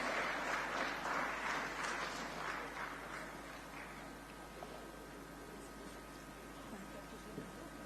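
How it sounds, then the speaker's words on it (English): Audience applause at the South Media Summit in Coimbatore as women leaders are invited onto the stage, a steady wash of clapping that is loudest at first and thins over several seconds, with talk mixed in. "Can I please invite the wonderful women leaders onto the stage, ladies and gentlemen, with a nice big round of applause"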